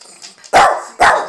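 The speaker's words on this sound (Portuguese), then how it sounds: "Não precisa latir" A dog barks twice in quick succession, loud and close, with soft sounds in between.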